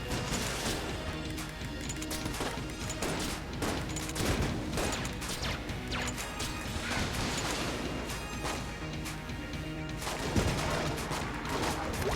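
Rapid, dense shotgun blasts ring out in the Bayonetta video game amid boss-fight chaos, loud crashing impacts piling up with almost no pause for about twelve seconds and no voices.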